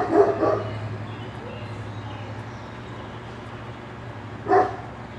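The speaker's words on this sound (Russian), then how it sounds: "Такая псина." A dog barks from behind a fence, two short bursts of barking, one at the start and one near the end, over a steady low background hum.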